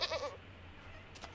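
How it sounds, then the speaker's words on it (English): Goat bleating in a video game, a short wavering bleat near the start, loud and close, followed by quiet background and a faint high click near the end. "Hello, little goat."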